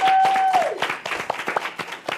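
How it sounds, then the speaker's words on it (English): Brunch attendees clap in a short, scattered burst of applause, individual claps audible and uneven, fading within a couple of seconds. "Please clap for this baby."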